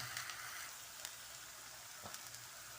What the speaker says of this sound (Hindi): ये मसाला मैं भून रही हूँ